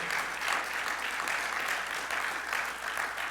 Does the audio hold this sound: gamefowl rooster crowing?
no